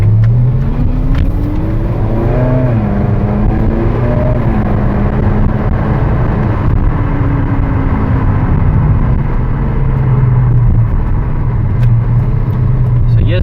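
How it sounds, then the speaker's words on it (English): A 2010 Ferrari California engine runs rough from carbon buildup, a loud, steady close drone with rising and falling revs, heard under people talking. "It's running a little rough because we got to do a top end clean"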